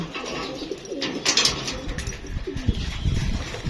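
Several racing pigeons coo nearby in low, throaty rolling calls, overlapping against a soft background hum.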